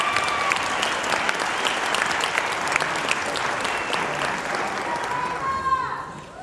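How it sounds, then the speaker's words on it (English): An audience at a school band winter jazz concert keeps up dense, sustained clapping for the soloists. The applause fades slightly toward the end, and a voice can be heard under it. "Can we give one more round of applause for all of our soloists?"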